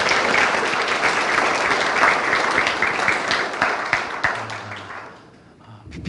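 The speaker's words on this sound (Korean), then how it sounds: "마음을 모아서 환영하는 박수 하겠습니다" A chapel audience at Hanyang University claps to welcome new students, full steady applause that tapers off toward the end, with a faint voice.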